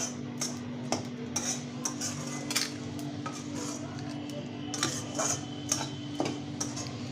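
A coconut and mawa mixture being lightly dry-roasted in a pan, with soft, irregular spatula clicks and scrapes against the metal over a low steady hum. No one speaks.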